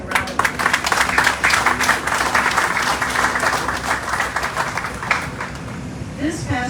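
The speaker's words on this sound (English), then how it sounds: "give yourself a round of applause" Port Authority of Guam employees applaud at a Port Week opening ceremony, with dense crowd clapping that stays loud and steady for several seconds before thinning out near the end.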